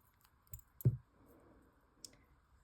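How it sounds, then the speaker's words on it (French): Small scissors snip tatting threads in a couple of sharp, close clicks against a quiet background, followed by a faint later tick. "Et je vais venir couper les fils de l'ouvrage."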